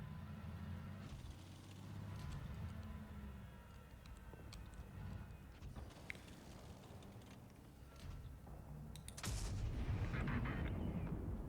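Tank cannon fire in World of Tanks Blitz booms amid rumbling engine and battle noise, with a loud, sharp shot near the end standing out over the continuous background.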